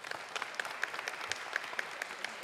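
A church congregation applauds a member during a service: a light, fairly quiet patter of clapping with scattered sharper claps, heard alone.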